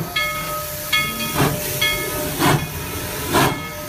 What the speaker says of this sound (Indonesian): Wow, kereta api Thomas.